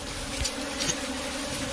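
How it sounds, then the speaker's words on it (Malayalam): Honey bees from a swarm smoked out of a rat burrow settle onto comb tied into frames; a dense, steady buzzing hum fills the space close by, with a few louder passes of individual bees and no talk. "കുറച്ച് സമയം കൊണ്ട് തേനീച്ചകൾ കുറേയേറെ അതിൽ വന്നു കയറി"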